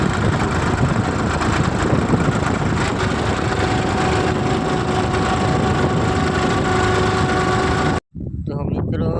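A tractor engine runs at a steady, loud, close drone with a constant low rumble and a faint whine, broken by a brief cut near the end.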